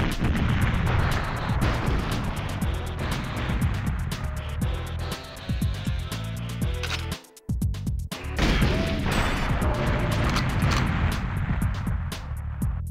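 Rapid gunfire from Goldeneye 007 on the Nintendo 64, dense loud game shots rattling almost continuously, broken by a brief silent gap midway before the firing resumes.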